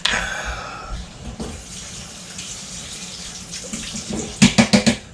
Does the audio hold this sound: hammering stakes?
no